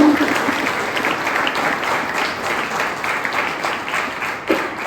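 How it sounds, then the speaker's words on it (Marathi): Loud, steady applause from an audience at a company product presentation event, sustained throughout without a break, with a brief spike in the clapping near the end. "तर मॅडमसाठी जरा जोरदार टाळ्या होत्या"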